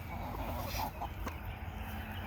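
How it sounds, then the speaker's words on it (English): Chickens, including a Salmon Faverolles hen, cluck softly in a garden, a few faint low clucks over quiet outdoor background. "But I still have all these beautiful chickens."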